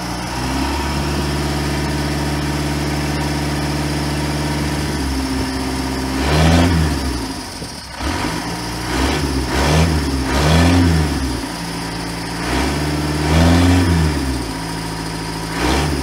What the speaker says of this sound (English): Doing some revving with the street pipe.